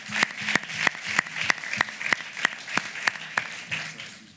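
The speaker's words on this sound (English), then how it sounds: "give them a big round of applause" Applause for the mayors at a youth climate activism panel, heard as sparse, crisp individual claps spaced at a regular beat, with a low hum running underneath.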